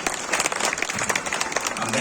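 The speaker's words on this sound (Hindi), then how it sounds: "जोरदार तालियां।" An audience at a Holi-special poetry gathering in Prayagraj bursts into lively applause, many hands clapping in a dense, uneven wash with a voice speaking over it.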